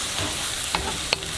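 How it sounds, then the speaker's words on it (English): A wok sizzles as ramen noodles are stir-fried with cabbage, giving a steady close crackle with a couple of sharp scraping clinks from stirring and no voices. "You have to hear the little sound from the pan again."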